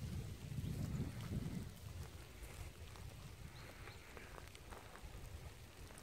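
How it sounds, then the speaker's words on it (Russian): Light rain falling outdoors on a cold day near barracks at a former Soviet army base in Germany, a faint steady hiss with a low wind rumble early on. "Ну, надо же, дождь."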